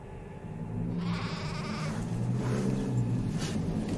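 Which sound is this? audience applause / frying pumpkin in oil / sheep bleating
sheep bleating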